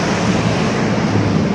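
Wind blows steadily across the microphone on a hot day, a rough continuous rush with no voices, brief and fairly loud.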